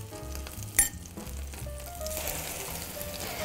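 Bread with egg and cheese placed into a hot frying pan: a brief knock, then a soft sizzle that grows into steady, quiet frying.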